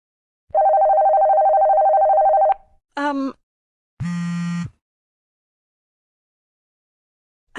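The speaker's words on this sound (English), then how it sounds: "Mom, I believe your phone is chirruping." In the video game Ava's Manor, a phone rings with a steady electronic tone for about two seconds, followed by several short bursts of other game sounds separated by silence.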